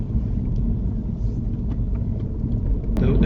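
Car engine rumbling steadily under acceleration during a driving lesson, a low continuous drone heard from inside the cabin with a few faint clicks.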